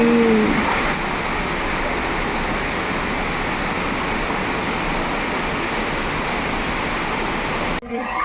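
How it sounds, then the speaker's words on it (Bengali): A heavy downpour roars continuously and evenly nearby, a dense wash of falling rain with a faint high tone at the start and a short knock near the end. "এত পরিমাণে বৃষ্টি হচ্ছে"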